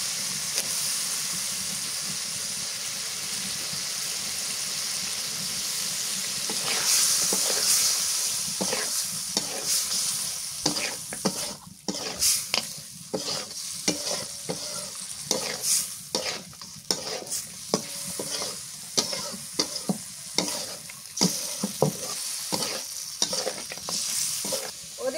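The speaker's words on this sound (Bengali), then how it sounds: "মশলা কষানো হয়ে গেছে, এবার চিংড়ি মাছ দিয়ে দিই।" Prawns fry in a cooked, well-fried masala with salt, a constant close sizzle broken by repeated rhythmic scraping and stirring of a spatula in the pan, no one talking.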